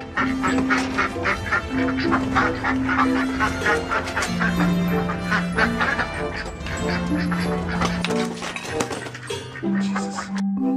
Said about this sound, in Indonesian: Wow, lihat teman-teman, ini bebek.